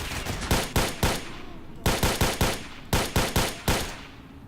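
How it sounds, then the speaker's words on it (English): Gunfire in the shooter game STALKER: Shadow of Chernobyl comes as several quick bursts of sharp, loud shots, grouped in threes and fours with short gaps between them, and no talk over it. "He got one little grazing shot on me, but that didn't do much"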